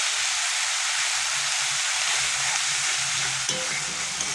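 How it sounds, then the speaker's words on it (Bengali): Turmeric and chilli powder being stirred in a hot frying pan for an egg curry: a loud, constant sizzle and hiss close up, with a faint scrape of the stirring spoon. "এবার ভালো করে নেড়ে নেব।"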